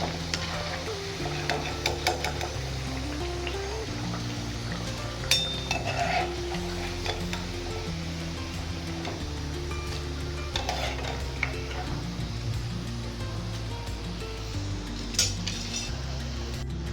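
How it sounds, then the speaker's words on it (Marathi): Colocasia leaf rolls (aluvadi) frying in hot oil, a steady sizzle under strong low tonal background hum, with occasional clinks of a slotted spoon or strainer against the pan and no talking. "तर अशा प्रकारे आपण या सगळ्या आळूवड्या अशा तळून घेऊया."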